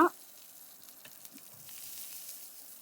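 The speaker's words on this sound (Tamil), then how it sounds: "சிம்மிலே வச்சு வறுத்துக்கோங்க" Garlic with its skin on, tamarind and green chillies fry gently in a pan on low heat, a faint, steady sizzle running after a brief louder knock at the start.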